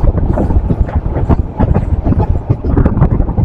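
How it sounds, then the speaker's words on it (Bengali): The Probal Express train pulls into Lohagara station in Bangladesh, a loud, continuous low rumble and roar of the wheels and carriages with wind buffeting the microphone and no talking. "প্রবাল এক্সপ্রেস এসে পৌঁছালো হচ্ছে লোহাগাড়া স্টেশনে"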